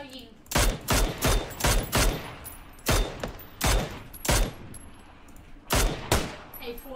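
Gunfire in a shooting video game, with loud bursts of rapid shots in clusters, including a fast run of four or five, then single and paired blasts spaced through the stretch, with a faint voice in between.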